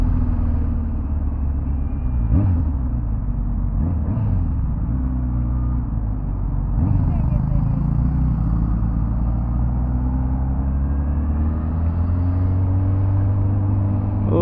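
Rider's view aboard a 1000cc Honda CB1000SP motorcycle on the road, a steady deep engine rumble with occasional revs rising and falling, wind noise over it, no talking.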